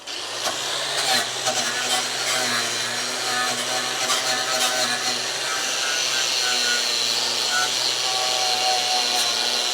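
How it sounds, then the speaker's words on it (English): A power tool grinds steadily at the spot welds on a Crew Cab Charger car body during restoration, a loud continuous whine running the whole time with people talking over it. "Just clean off the spot welds so we can get at it with the drill."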